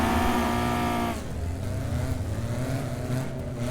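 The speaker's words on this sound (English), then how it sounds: "Formula 2 stock car grand final time, 20 laps, 9 cars on the track. Away we go, we're rolling." Nine BriSCA Formula 2 stock cars roll away at the start of a 20-lap grand final at Westworld, a dense roar of engines revving and droning together, loud and continuous.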